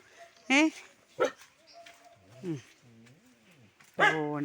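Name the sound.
dog barking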